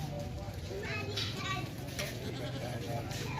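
A Teddy goat bleats faintly under steady talk and a busy background of children and other animals, with the animal calls blending into the noise.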